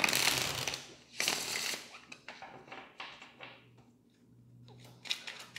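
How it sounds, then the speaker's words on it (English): Tarot cards being shuffled by hand produce a few bursts of papery riffling and soft tapping, with quieter gaps between them, close and fairly faint. "Let's get one more shuffle."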